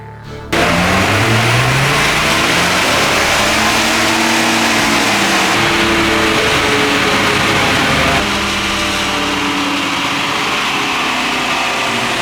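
A Volkswagen Golf VR6 engine runs steadily on a dynamometer, a loud sustained drone with shifting tonal bands as revs rise and hold, dropping slightly in level near the end, with no talk over it.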